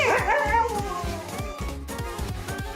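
A pet dog gives a string of short, high whimpers and yips, close and fairly loud, repeated rhythmically over a few seconds with light background sound in a home setting.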